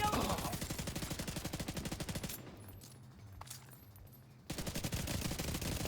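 Rapid video-game gunfire rattles in dense bursts, stops for a stretch of quieter sound, then resumes loud and close.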